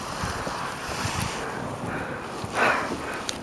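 Wind during a snowstorm, a steady broad rush outdoors with gusty buffeting against the microphone and a brief louder gust near the end.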